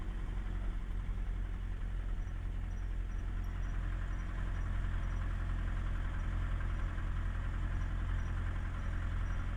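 The engine of a 1941 vintage airplane idles steadily while it taxis toward the runway at the Western North Carolina Air Museum in Hendersonville, a continuous, even, low rumble heard close up with no voices.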